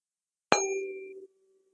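A struck instrument tuned to G at 384 hertz gives a single sharp metallic strike that rings out as a clear, faint tone and fades after under a second, surrounded by silence.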